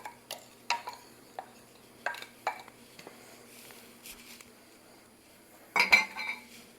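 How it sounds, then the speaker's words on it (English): A utensil clinks and taps against a bowl while wet ingredients are folded into dry ones for banana nut bread, with scattered light knocks and a louder scraping burst near the end. "Now that we've got these two in here, we're just going to kind of fold this together."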